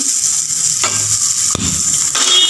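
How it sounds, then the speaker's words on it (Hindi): Butter heating and sizzling in a pan on the stove while dal makhani is prepared; a steady, close, bright sizzle runs throughout with a few soft stirring scrapes, and no one talks. "यहाँ पर मैं ले लेती हूँ मक्खन और मक्खन को थोड़ा सा गर्म होने देते हैं"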